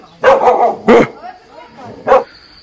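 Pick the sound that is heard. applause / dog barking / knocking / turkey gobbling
dog barking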